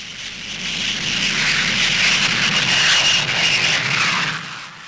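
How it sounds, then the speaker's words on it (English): A Gloster Meteor 4 jet fighter on a low, high-speed run about 200 feet up along a measured course, a broad roaring jet rush that swells, holds steady for several seconds, then fades slightly, with no voices. "Both planes were to make 4 runs along the 3-kilometre course at about 200 feet"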